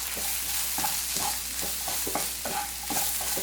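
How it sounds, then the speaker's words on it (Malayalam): Turmeric, coriander powder and garam masala stirred through a sizzling pan, repeated close spoon scrapes in a steady rhythm over a constant frying hiss, no talk. "കാൽ ടീസ്പൂൺ മഞ്ഞൾപ്പൊടി ഒരു ടീസ്പൂൺ അളവിൽ മല്ലിപ്പൊടി ഗരം മസാല ഒരു ടീസ്പൂൺ അളവിൽ ഇതെല്ലാം കൂടി നന്നായിട്ടൊന്ന് മിക്സ് ചെയ്ത് കൊടുക്കാം"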